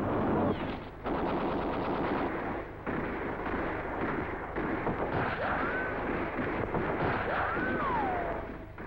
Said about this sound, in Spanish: la artillería que castiga violentamente las posiciones enemigas